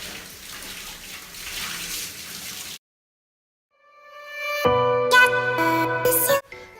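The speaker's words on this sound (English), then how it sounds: "And then I just rinse it out with shampoo." Water runs steadily from a tap while a lace frontal wig is rinsed with shampoo, a soft, even hiss for a few seconds that stops abruptly and gives way to a musical tone.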